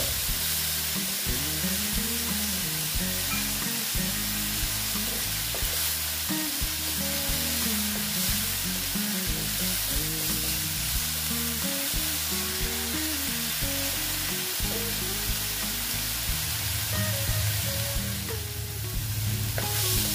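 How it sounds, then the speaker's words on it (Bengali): Onions and tomato fry in a pan for a spicy katla fish curry, with a continuous sizzle and stirring under steady background music. "দিয়ে আমি ভালো মতো ভেজে নেবো, কারণ পেঁয়াজের একটা কাঁচা গন্ধ যাতে না থাকে।"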